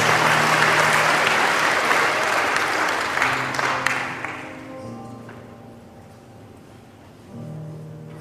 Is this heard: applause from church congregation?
yes